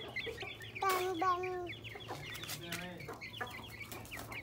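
Chicken clucking in a series of short, close calls with a few stretched squawks, fairly quiet over a steady low background hum.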